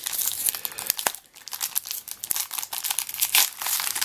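Crinkly plastic foil wrapper of a Magic: The Gathering Battle for Zendikar booster pack being torn open up close, a steady run of sharp crackling and ripping bursts with brief pauses between them.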